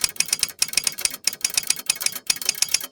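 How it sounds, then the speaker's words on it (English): Rapid clicky typing on a keyboard at a bank desk, bursts of crisp keystrokes in quick rhythmic runs separated by short pauses, close and fairly loud with no voices over it. "Just a moment while I type this in."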